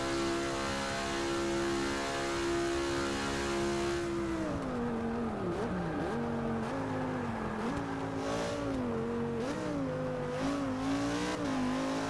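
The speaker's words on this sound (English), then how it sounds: "It's a Lamborghini." Lamborghini race car running at the Rolex 24 endurance race: a loud, steady engine note holds, then rises and falls through repeated revs and gear changes as it passes, with no talk over it.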